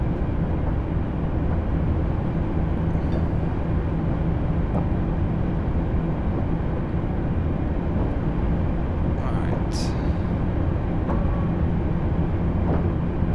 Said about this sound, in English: Train sounds ghastly.